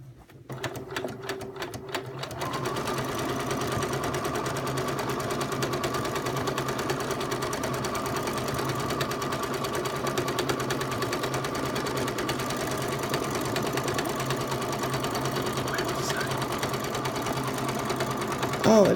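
A sewing machine runs steadily while free-motion quilting a meander pattern with a mini meander template, a continuous close mechanical whir with brief ticking stops at the start.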